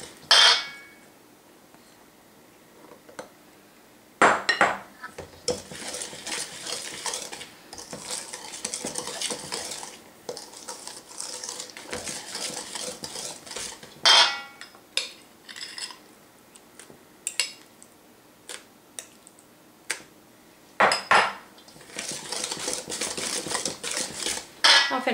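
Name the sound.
mixing banana bread batter in a bowl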